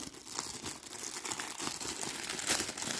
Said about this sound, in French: C'est bien protégé, en tout cas c'est dans une enveloppe bulle.